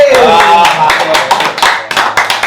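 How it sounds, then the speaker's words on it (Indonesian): A podcast audience claps hands in loud, close applause, sharp uneven claps layered over a sung musical tone at the start. "langsung tepuk tangan buat yang udah hadir"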